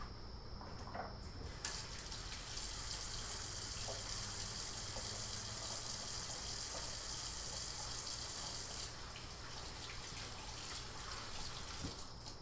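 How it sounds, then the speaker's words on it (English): Tap water runs steadily into a sink during handwashing, a continuous close hiss and splash that changes slightly partway through as the flow shifts, with no talking. "I'm gonna wash my hands real quick,"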